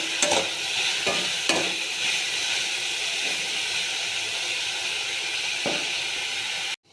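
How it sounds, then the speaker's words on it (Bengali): Thin-sliced carrots fry in a pan with salt, giving a continuous close hiss and sizzle broken by a few louder scraping stirs, with no voices. "এই গাজরগুলোও দেবো। এই যে পরিমাণ মতন আমি এর মধ্যে একটু নুন দিয়ে দিলাম, দিয়ে এটাকে ভালো করে ভেজে নেব।"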